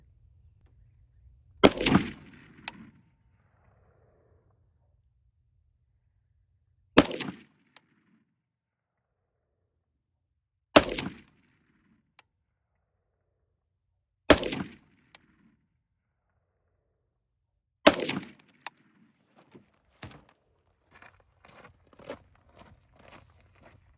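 Five single gunshots fired outdoors on a sunny range while zeroing a red dot sight, each a sharp, loud crack spaced several seconds apart, with faint handling clicks and shuffling between.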